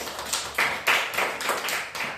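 Children clapping in a government school classroom, several short bursts of applause over about two seconds, fairly close.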